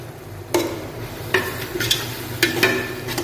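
Chicken biryani masala being stirred and fried in a pan, with a steady sizzle broken by several sharp metallic scrapes of the spoon against the pan, close, with no talk.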